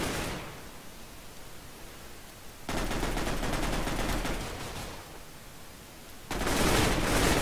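AK rifle fire in Mineplex Counter Strike inside Minecraft comes as two loud sustained bursts of rapid automatic shots over a low background hiss, no voices.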